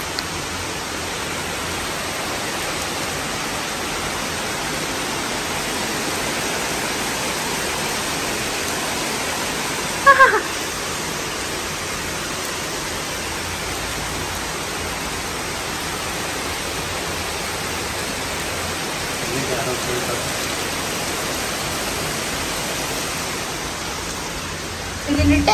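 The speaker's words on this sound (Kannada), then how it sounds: "ಮಳೆ ನೋಡು ಜೋರಾಗಿ ಬರ್ತೈತೆ" Heavy rain pouring steadily as a dense, even hiss with a brief knock near the middle, continuous and unchanging throughout.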